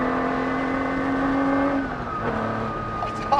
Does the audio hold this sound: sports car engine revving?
yes